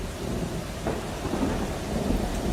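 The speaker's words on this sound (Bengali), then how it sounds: "তারপর এক সময় যেন শুনতে পেলেন মুষলধারে বৃষ্টির ঝমঝম শব্দ" A heavy-rain-and-thunderstorm effect in a horror audio drama: a steady roar of downpour with a low, continuous thunder rumble beneath it, full and even throughout, with no talking.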